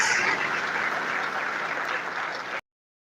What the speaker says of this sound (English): please another sounding round of applause for the hosts